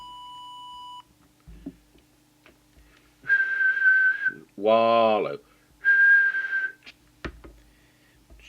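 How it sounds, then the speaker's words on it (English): Whistling into a Cobra 21XFM CB radio during transmitter alignment: a steady tone, then two sustained whistled notes with a warbling pitch sweep between them, each lasting about a second, clear and close, with a brief spoken word near the end. "Now we'll just go and do the whistle test."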